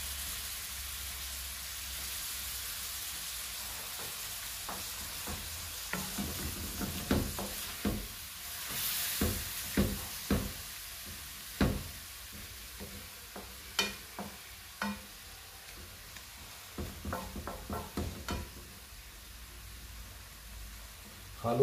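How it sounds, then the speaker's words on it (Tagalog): Cuttlefish being stirred in a pan for black pasta, with soft scraping and stirring knocks repeating irregularly over a steady low sizzle and background hiss, close by with no talking. "halo ka lang ng halo"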